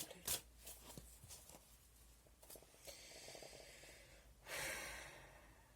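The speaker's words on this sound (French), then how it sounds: "Vous m'avez entendu souffler." Very quiet close breathing with a sharp sniff, then a longer, heavier exhale near the end.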